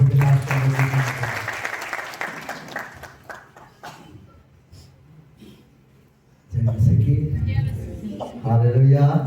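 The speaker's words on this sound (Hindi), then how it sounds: "क्यों ना हम एक बार जोरदार ताली बजा के प्रभु के नाम से" Loud audience applause at an engagement ceremony, a dense burst of clapping that fades to near silence, then swells again with cheering voices.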